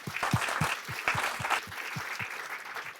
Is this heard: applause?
yes